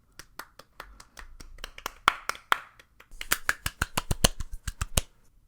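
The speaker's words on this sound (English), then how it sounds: "Everybody clap." A few podcast hosts clap in loose, uneven bursts of sharp, close hand claps, pausing briefly before a quicker, louder flurry, with no talking.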